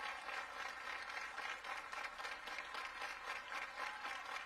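A Sunday crowd applauds and cheers steadily at a college softball game between Oklahoma and Iowa, a dense continuous wash of clapping with no pauses, moderately loud and even throughout.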